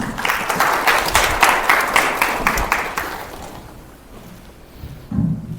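An audience at a Korean geotechnical safety seminar applauds to welcome a speaker, with dense, fairly loud clapping that thins out and fades, followed by a brief quiet gap and a sound at the very end.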